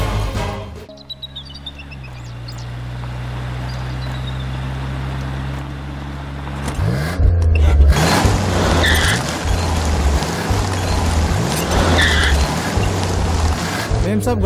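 A car engine in a Bhojpuri movie scene strains and revs unevenly as the vehicle gets stuck, a low droning rumble that surges louder partway through, with people talking over it.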